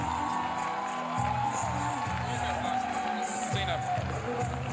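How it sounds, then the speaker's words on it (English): Conference audience at an International Women's Day event clapping and cheering loudly in a sustained wash of applause and whoops, with a host's amplified voice speaking over it. "keep clapping, keep clapping."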